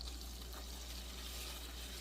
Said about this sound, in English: We got that sizzling away.